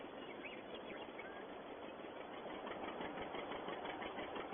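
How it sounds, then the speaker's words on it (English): A tractor engine runs steadily while tedding hay on a farm in 1951, its continuous mid-range drone staying constant and fairly even throughout. "Hopefully we don't tip the tractor over going round some of these corners."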